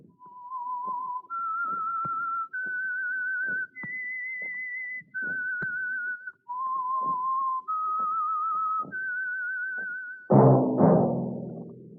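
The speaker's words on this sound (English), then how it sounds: "That whistle is your signal for the Signal Oil Program, The Whistler." A whistled tune signals The Whistler, the Signal Oil radio program: eight sustained, clear notes rising and falling in a slow melody over faint orchestral backing, then a brief louder swell of music at the end.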